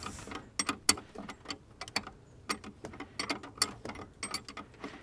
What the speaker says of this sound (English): we'll snug it up with the appropriate flare wrench